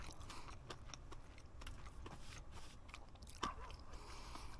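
Someone bites into crispy golden fried catfish, giving close, quiet crunching and chewing sounds that continue steadily with one sharper crackle near the end.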